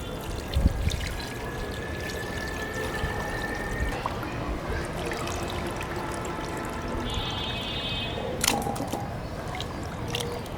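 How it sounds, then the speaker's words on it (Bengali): Mutton pieces being washed with water in a bowl, a continuous pouring and trickling wash with occasional splashes and squishing handling, fairly close and steady. "মাংস এখন ধুয়ে নিব খুব ভালো করে।"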